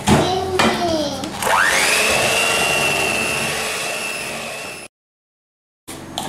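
Electric mixer whirring loudly as it beats chocolate butter cream in a bowl, a steady motor whine that rises in pitch and holds, then cuts out abruptly before restarting briefly.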